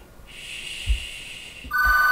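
A telephone rings nearby during a Minecraft gaming session, a steady electronic trill that holds for over a second, then shifts to a sharper, louder tone pattern at the end.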